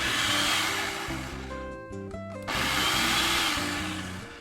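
Blender pulsing and then running steadily to puree onions for a papaya seed dressing, a loud whirring motor that cuts out briefly before roaring back on, with no talk.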